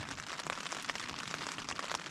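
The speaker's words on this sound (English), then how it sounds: "I don't know how long it will rain." Steady rain falls in the Jotunheimen mountains, a dense close hiss of drops pattering on a surface with no voices, continuous and even for about two seconds.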